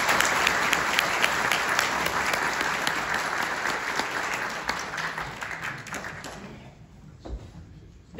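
A conference audience at COEX claps together in dense, loud applause that holds steady for about six seconds, then thins out and fades toward the end.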